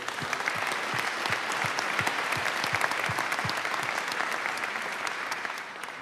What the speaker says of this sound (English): a round of applause for him and his service